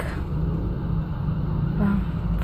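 Heavy road traffic rumbles steadily nearby, a continuous low engine drone from a long queue of cars.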